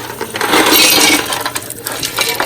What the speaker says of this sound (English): And let's put it in some cold ice water.